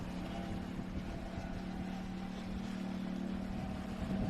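A Force 21 offshore superboat with 1,800 hp of twin-turbo quad-cam Mercruiser V8 power drones steadily at a distance while racing on a lake, a continuous low engine roar with no break.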